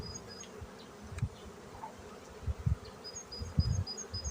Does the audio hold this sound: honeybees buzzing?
yes